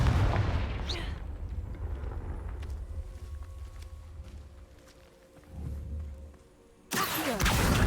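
Confringo fire spell blasts in Hogwarts Legacy, a burst at the start and another at the end with quieter rumbling and ambience between them.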